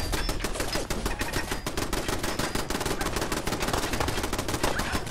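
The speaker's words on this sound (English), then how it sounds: "That sounds like there's two turrets." Automated turrets in Fallout 4 fire sustained rapid machine-gun bursts, loud and dense throughout with no pauses, sounding like more than one gun.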